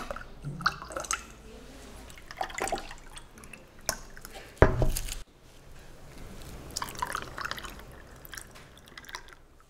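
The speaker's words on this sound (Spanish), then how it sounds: "En otro recipiente vaciamos el tejuino y le damos su meñadita para combinar mejor los sabores." Tejuino drink being poured over plenty of ice into another container and stirred, with splashes, drips and clinks of ice, one sharp knock midway, and soft background voices at times.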